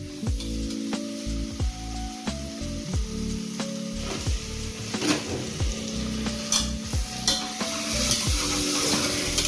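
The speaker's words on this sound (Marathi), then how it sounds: "हा टोमॅटो जो आहे तो सगळा मी यामध्ये टाकते" Tomatoes frying with onion in a pan in a home kitchen, a continuous close sizzle broken by repeated metallic scrapes and taps of a spoon stirring against the pan.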